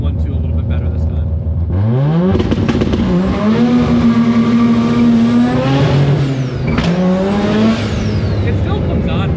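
A loud drag racing car engine revs and accelerates hard, its pitch climbing through gear changes, close and roaring continuously.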